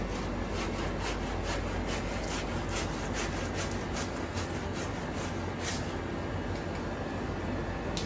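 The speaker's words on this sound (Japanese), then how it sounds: "ここも硬いから、 ノコギリ。" A handsaw works through the hard bone of a whole tuna during butchering at a Tsukiji wholesaler, giving a steady run of rasping back-and-forth strokes, close and continuous, with no talk.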